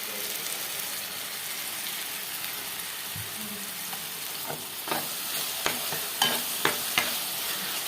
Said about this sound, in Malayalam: ഇഞ്ചിയും ഉള്ളി പച്ചമുളകും ഇട്ട് വഴറ്റണേനെ. ഈ അരപ്പിട്ട് നമുക്കൊന്ന് വഴറ്റാട്ടോ.